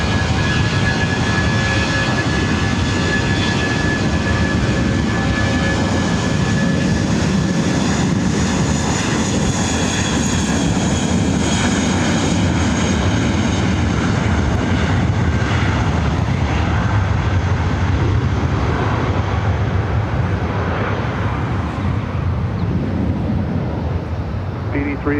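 A WestJet airliner lands on runway 24 right at LAX, its jet engines a loud continuous roar with whining tones that slowly ease over the long approach, while radio voices talk over it.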